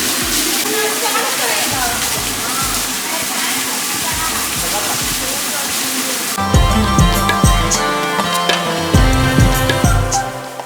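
Water spilling over a low-flow waterfall near Gokarna in summer, a steady rushing wash with a heavier, closer churning burst in the second half; no one speaks.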